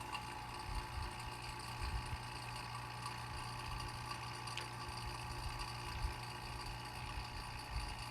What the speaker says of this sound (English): Okay, we've been running the vacuum pump now for about 5 minutes.